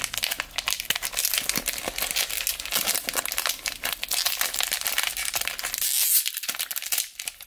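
Foil wrappers of Panini Chronicles basketball card packs being ripped open and crumpled, a close, continuous crinkling and tearing with no voices.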